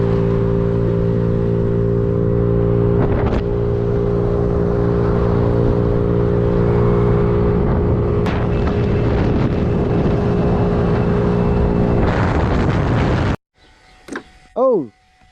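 A small Chinese scooter engine buzzes steadily while riding, a loud, sustained droning whine close to the mic with wind noise, cutting off near the end before a few brief squeaky sounds.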